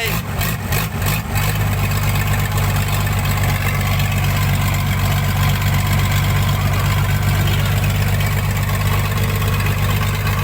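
A winch truck's heavy diesel engine labours loudly and continuously while pulling a rice harvester stuck deep in mud, a steady low throbbing drone, with a few rhythmic knocks at the start.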